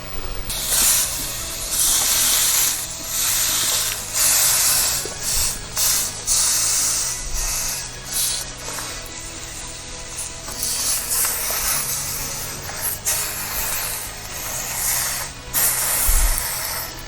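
Aldi Platinum Prime Irish steak sizzles steadily in a hot pan, a loud continuous crackling hiss with bright spitting bursts that carries on without a break.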